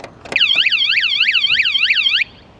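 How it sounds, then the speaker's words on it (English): A motorhome's security alarm sets off when the locked door handle is lifted, giving a loud, close, rapidly warbling electronic chirp that repeats in quick even cycles for about two seconds and then cuts off abruptly. "If I tried the door handle here with the alarm on this one"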